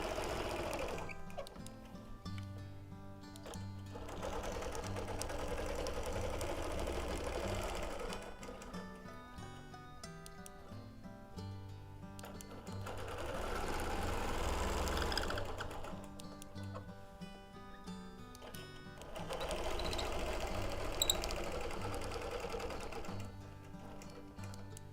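A sewing machine stitches free motion ruler work on a quilt with a hopper foot against an acrylic ruler, a fast close rattling whir that runs in bursts and slows to lighter ticking between them, with no talking.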